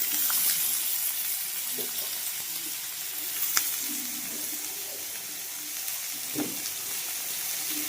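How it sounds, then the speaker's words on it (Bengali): Eggs boiling in a pot in a home kitchen, a steady bubbling and sizzling hiss with occasional clinks, heard close and alone. "আর এখানে দেখো ডিম সিদ্ধ হচ্ছে"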